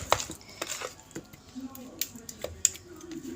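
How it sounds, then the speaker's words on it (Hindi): A utensil stirs masala into chicken in a pan, giving scattered light clinks and scrapes at an uneven pace, fairly close and moderately quiet. "चलें अब इसे अच्छी तरीके से मिक्स कर लेते हैं।"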